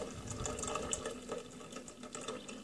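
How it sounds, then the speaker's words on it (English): Water poured into a coffee press, a steady close splashing and trickling stream that runs continuously for a couple of seconds at moderate loudness. "We're gonna pour the rest of the water."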